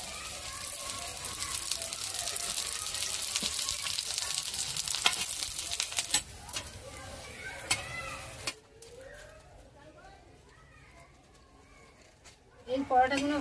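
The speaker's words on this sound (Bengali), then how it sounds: "এই পরোটাগুলো ভাজা হয়ে গেছে" Lachha paratha fries in oil in a pan with a loud, steady sizzle that later fades to quieter crackles and scattered clinks, with voices faintly in the background.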